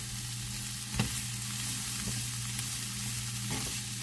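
Bell pepper and jalapeno fry in oil for steak fajitas, giving a steady sizzle and hiss. Occasional scrapes and taps come from stirring in the pan.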